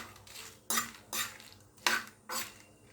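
Metal spoon scraping and clanking in a pan while dried red chillies and cumin seeds dry-roast, four sharp strokes at a steady pace over a faint background, close and fairly quiet, with no talking.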